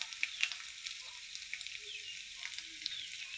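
Prawns frying in a hot pan of spices for a Bengali prawn and taro-stolon bhuna: a bright, continuous sizzle crackles quietly, with small pops and a few light stirring scrapes.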